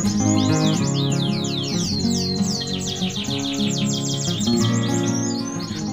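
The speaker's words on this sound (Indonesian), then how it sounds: "Burung kenari ini merupakan salah satu burung kicauan yang banyak diminati para kicomania." Canaries singing in breeding cages, loud and close, with rapid overlapping trills and chirps from several birds running continuously throughout.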